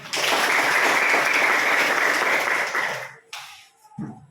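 Applause from a classroom of students at a teacher's lesson, a dense burst of clapping for about three seconds that stops abruptly, followed by a few scattered claps and faint voices.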